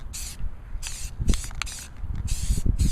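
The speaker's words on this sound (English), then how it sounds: "So now it's time to spray the second color." Spray paint hissing from an aerosol can onto the exposed lines of a glass dry erase board made from an old picture frame, in several short bursts with pauses between, fairly close, with faint handling knocks underneath.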